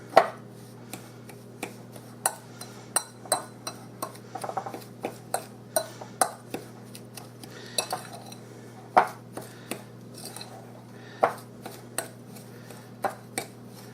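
A fork working spices and lumpy brown sugar together in a bowl, a steady series of sharp clicks and scrapes against the bowl, close and crisp in a quiet room, no talking.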